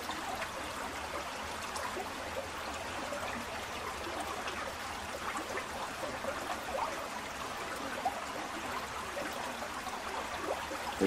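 Water flows at the confluence of the Bruguet brook and the Brague river, seen from a small footbridge in February. The babbling and trickling is soft and continuous, with no voices.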